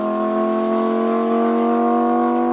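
A tuned Audi R8 V10+ with a titanium exhaust system sends out a loud, steady engine drone under acceleration, rich with sustained tonal harmonics and no voices.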